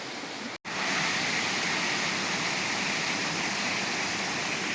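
Spring water pours down from the mountains in a steady, dense rushing hiss, close and loud, broken only by a split-second dropout near the start.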